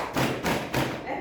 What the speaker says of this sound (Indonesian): Pintar tepuk tangan semuanya.